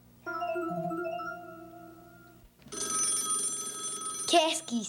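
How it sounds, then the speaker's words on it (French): A telephone rings in a 1979 children's television episode with clear tonal ringing bursts. A second, brighter and louder ring follows a short pause, and a voice is heard. "Moi, je le sais, c'est le téléphone."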